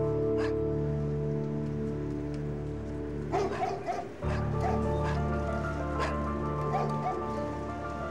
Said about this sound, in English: So I could clearly hear dogs inside the address, so I know there's dogs in there now.